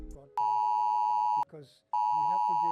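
Emergency alert tone warning of a ballistic missile threat in Hawaii, January 2018: two long, loud, steady electronic beeps separated by a short gap, with a voice briefly audible between them.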